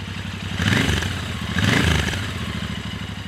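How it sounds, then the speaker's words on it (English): A Royal Enfield Continental GT 650 twin engine runs on its side stand with a deep, throbbing exhaust note, swelling twice in gentle revs before settling back, close by with no talking. "It's got a really beautiful deep note when you start it up on the side stand."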